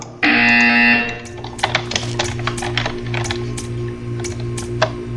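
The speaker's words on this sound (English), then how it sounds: "You will hear a buzzer." A loud, harsh buzzer in Portal 2 blares for about a second, followed by a repeating low electronic pulse and scattered clicking taps.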